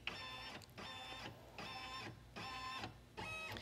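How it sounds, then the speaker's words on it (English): An embroidery sewing machine's built-in scanner sweeps across the hooped suede fabric, giving a steady electronic whirring hum in four even bursts separated by brief pauses, close and alone. "There's actually a scanner on this machine, and it's going to take a picture of what is exactly hooped in my machine."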